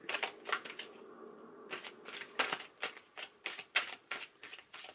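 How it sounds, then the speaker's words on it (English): A deck of tarot cards is shuffled up close, giving quick repeated papery riffles and slaps in an uneven rhythm of short bursts with no talking. "Should I shuffle this way or should I shuffle this way?"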